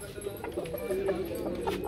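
A rooster clucks in short repeated bursts close by, low background noise with other fowl sounds around it.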